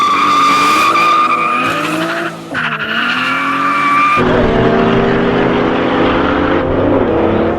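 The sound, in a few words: 2JZ-powered 200SX race car skidding, tires squealing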